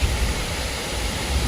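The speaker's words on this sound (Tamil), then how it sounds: "பாருங்க வாட்டர் ஃபால்ஸ் சாரல." Waterfall spray on a Kanthaloor trip comes through as a steady, dense hiss of falling water close by, broad and unbroken, with no talk over it.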